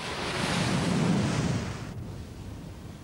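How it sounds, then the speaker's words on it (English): Petrol poured onto an outdoor fire ignites in a loud, broad roaring whoosh that swells for about two seconds, then drops abruptly to a quieter rushing burn. "He's pouring petrol onto the fire."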